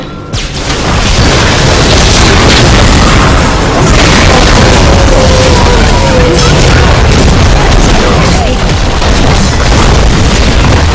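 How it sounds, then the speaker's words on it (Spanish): An inhibitor explodes in League of Legends, a loud booming blast followed by sustained crashing, rumbling battle noise that continues throughout. "Vuestro inhibitor ha sido destruido."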